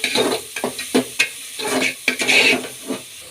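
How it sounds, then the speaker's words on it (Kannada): Chopped onion fries in oil in a pan while being stirred, giving close, irregular bursts of sizzle and scraping with short pauses between strokes, and no voices. "ಈರುಳ್ಳಿ ಸ್ವಲ್ಪ ಫ್ರೈ ಆಗಲಿ."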